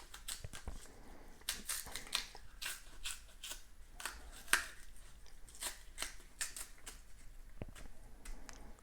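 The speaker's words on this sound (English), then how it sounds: "so you peel green banana, people." Knife slitting and peeling the skin of green bananas, close by with crisp repeated scraping and crackling strokes at an irregular rhythm, alone.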